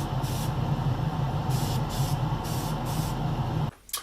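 An airbrush sprays a thin overcoat of paint onto a 1/32 Wing Nut Wings Sopwith Triplane model kit, giving a loud, steady, close hiss with faint pulsing that cuts off abruptly near the end.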